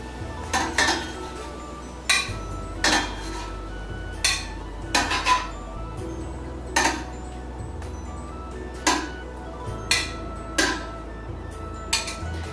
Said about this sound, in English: I'm going to remove my tofu and plate it up